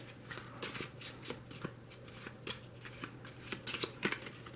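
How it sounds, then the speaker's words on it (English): A small pile of game cards for a dungeon-themed tabletop card game being shuffled, giving a steady run of soft riffling and flicking bursts at close range, alone without speech. "then these you're going to give a nice shuffle."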